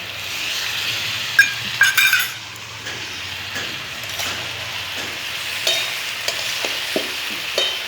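Spice paste of ginger, cumin and green chilli sizzles with vegetables and fish head in a pan, a steady frying hiss broken by clinks and scrapes of a spoon against metal, up close.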